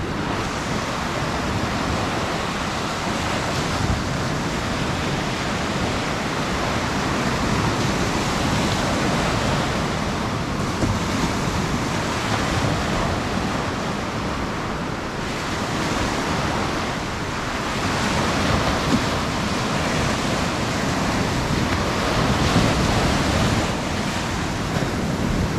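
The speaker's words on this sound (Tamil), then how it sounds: "கடலோட சத்தமே வேறு லெவல்." Sea waves at Varkala beach in Kerala, a loud continuous wash of surf with swelling breakers and wind buffeting the microphone, no voices over it.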